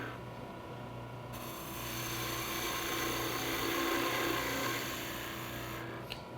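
A wood lathe spinning a spindle for a Christmas ornament while a skew chisel cuts, a steady whirring drone that swells into a harsher, brighter cutting hiss before tailing off.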